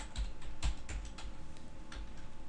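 Typing on a computer keyboard, a run of close, light clicking keystrokes in an uneven rhythm, with no speech.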